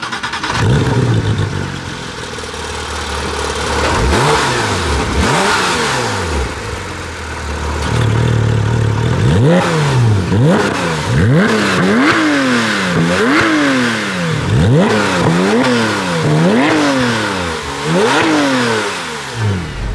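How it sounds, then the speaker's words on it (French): Porsche 911 GT3 (991.1) flat-six engine revving hard on small country roads, with repeated rising and falling rev sweeps through gear changes, loud and close from inside the cabin. "nous voici à bord de la 991 phase 1 GT3 pour être précis, sur les petites routes"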